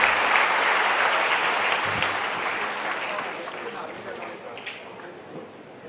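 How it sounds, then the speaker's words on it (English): Broad, sustained applause from a conference audience at a national students' event, loud at first and slowly tapering over several seconds with scattered individual claps near the end. "please give a huge round of applause for Simran"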